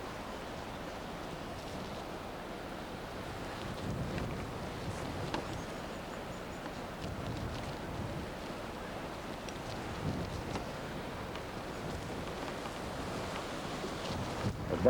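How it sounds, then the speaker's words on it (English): Strong wind buffeting a microphone on the coast at Sanibel Island, Florida, a continuous broad rushing roar with gusty swells and possible surf beneath, faint and without voices. "Boy, it is really windy."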